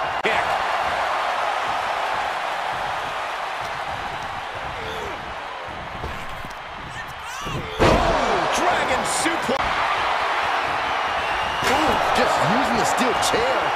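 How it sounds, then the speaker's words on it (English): A wrestling slam lands in the WWE 2K24 video game, one sharp heavy impact mid-clip amid crowd noise and commentary talk, with further thuds and bounces following. "Delivering the suplex."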